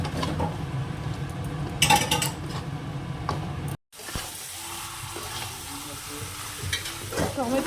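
Meat being mixed and sautéed in a pan, with steady stirring and sizzling that drop out briefly near the middle before resuming at a lower level.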